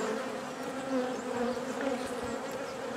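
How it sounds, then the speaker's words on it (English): Dense, steady buzzing of many honeybees around an opened hive during an inspection, close and continuous with no talk. "I'm watching the bees. They are not liking my camera whatsoever."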